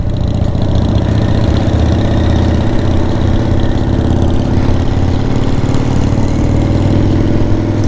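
Motorcycles rumble through the small town of Radium, a loud, continuous engine drone with throbbing low tones held close throughout, with no voices.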